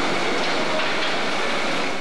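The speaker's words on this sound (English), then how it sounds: "Workers can occasionally hear the Red Line rumbling overhead" Red Line subway train rumbling overhead above a Big Dig highway construction tunnel in Boston, a steady, loud, broadband roar with no breaks and no voices.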